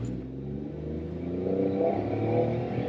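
A Suzuki micro car's small engine revs hard and climbs in pitch as it launches, a loud, strained whine that holds steady for a few seconds.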